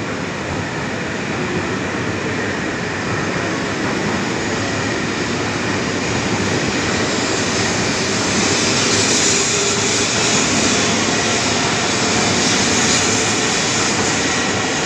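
A Shinkansen bullet train pulls out from a Tokyo station platform, a loud, sustained rushing roar and hum that builds slightly as it departs, with no talk.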